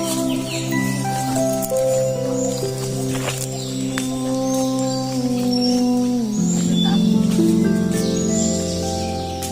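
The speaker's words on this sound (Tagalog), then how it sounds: "Sa kapal ng kagubatan, rinig na rinig mo ang mga magagandang uri ng ibon." Various birds sing in dense forest near Katanubongan Cave in Lasam, Cagayan, with overlapping sustained whistles and calls rising and falling over a soft natural background.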